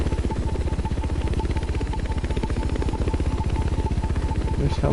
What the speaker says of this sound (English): This helicopter is not very easy to fly.